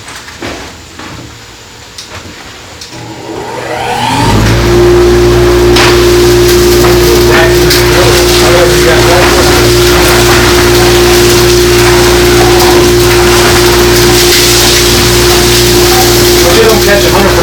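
A sawmill dust collector system switches on by remote after a few quiet seconds, then runs as a loud, steady blower roar with a constant hum that holds unbroken to the end.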